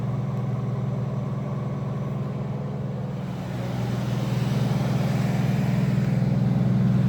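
A Jeep YJ engine idling shortly after a cold start, a steady close low rumble with a fast, even exhaust pulse that grows slightly louder partway through, with no talking.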